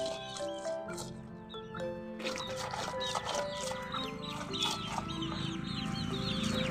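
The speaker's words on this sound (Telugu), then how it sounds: "చూడండి ఫ్రెండ్స్, కోడి పిల్లలు చుట్టూ ముసిరేసినాయి." Young chicks and hens cluck and peep around a yard, several soft, overlapping calls at middling distance, with faint background sounds.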